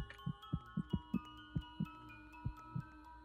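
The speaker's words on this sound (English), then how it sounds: "the heartbeat sped up there" Heartbeat in a Roblox horror game, steady low thumps close up, about ten beats over a few seconds with the pace quickening toward the middle, alone over a faint game hum.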